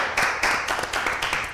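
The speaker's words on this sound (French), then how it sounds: "On applaudit" A small group claps in a rhythmic burst of applause on a French journalism quiz show, close and fairly loud.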